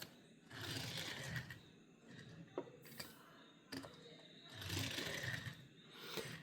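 A Majorette Lamborghini Countach LPI 800 toy car in Dubai Police livery, with wobbly wheels, rolls across a surface in two quiet, rattly bursts separated by light clicks.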